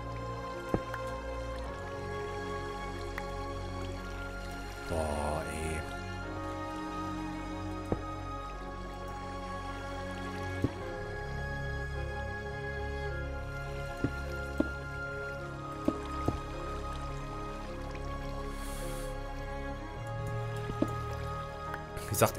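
Water pours down in a video game, a steady dripping and splashing stream that runs close and even throughout with occasional louder drops and faint game tones underneath.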